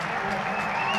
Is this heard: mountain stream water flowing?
no